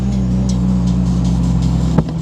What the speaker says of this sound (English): Oh, it's the race car.